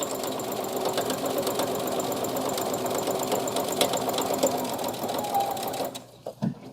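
A sewing machine stitches a zipper pouch with a steady, close mechanical whir that runs without a break for about six seconds, then stops, leaving a few soft handling clicks.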